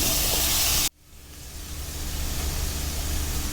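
Minced pork stir-frying in a hot pan for Thai street food: a loud burst of sizzling hiss cuts off abruptly, then a softer sizzle builds back up and holds steady.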